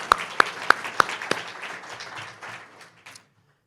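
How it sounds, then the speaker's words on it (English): A few loud, evenly spaced close claps open a round of applause at a community recognition awards event, joined by scattered audience clapping that thins and fades out before a short silence. "a round of applause"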